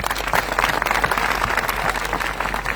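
An audience claps steadily in dense, continuous applause at an event, a busy crowd sound without pauses.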